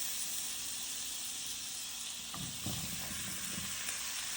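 Smoked sausage dropped into hot butter in a pan, a steady quiet hiss that swells into a louder crackling sizzle as the meat goes in, close by with no talking.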